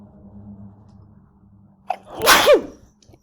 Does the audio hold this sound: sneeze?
yes